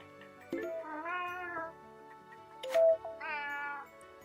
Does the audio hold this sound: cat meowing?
yes